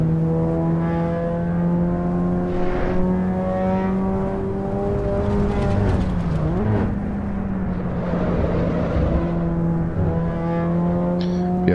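Hot hatch engine from the Assetto Corsa Evo driving game, a steady loud harmonic drone held at near-constant revs with a brief dip and wobble midway, heard alone throughout.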